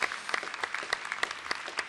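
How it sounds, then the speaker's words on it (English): Audience applause at a UCLA Law commencement, a dense, steady patter of many hands clapping throughout. "I'm sure they'll join me now in applauding your amazing achievement"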